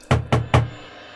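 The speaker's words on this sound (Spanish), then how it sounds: "gritaba al momento en que golpeaba con fuerza la puerta" Three hard, evenly spaced knocks on a door, loud and close, each a heavy thud with a short decay, with no voices.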